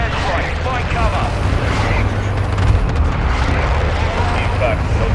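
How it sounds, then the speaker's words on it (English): Enemy precision airstrike explosions in the Warzone Mobile battle royale rumble and boom continuously in a loud, dense low roar, with gunfire and game voices mixed in. "Enemy precision airstrike."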